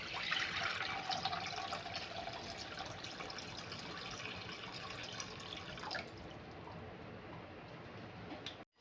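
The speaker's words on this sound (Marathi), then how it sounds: "आता याच्यात आपल्याला घालायचे पाणी." Water trickles and splashes steadily into a cooking pot with cut corn cob pieces, a close, soft pouring sound that runs for several seconds and then stops.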